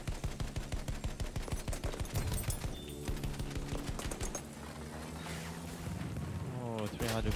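Rapid bursts of gunfire from Battlefield 1 rattle steadily throughout, dense repeated shots under a voice speaking.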